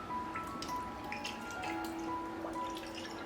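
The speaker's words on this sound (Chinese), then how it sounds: "最后淋上生抽" Light soy sauce is poured over sea shellfish sitting with butter in a pan, giving a soft, steady close-up trickle with small scattered drips throughout and no voices.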